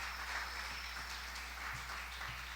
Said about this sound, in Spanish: denle su mejor aplauso al Rey bendito